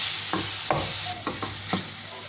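Cubes of chicken breast frying in a pan for a chicken and mushroom quiche filling, a continuous close sizzle broken by several quick scraping stirs.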